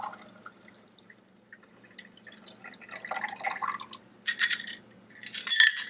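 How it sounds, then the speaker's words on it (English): A gin gimlet cocktail is poured from a shaker into a glass, bringing faint drips that swell into a louder splashing pour with clinking near the end, in a quiet room. "Just going to pour my cocktail in."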